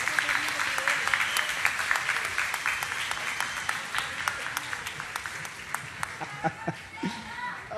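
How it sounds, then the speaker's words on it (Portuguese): An audience at a live radio show in a park breaks into sustained applause, dense clapping that gradually thins out over several seconds, with a few voices and chuckles mixed in. "eu quero um aplauso para o senhor que está aqui na frente"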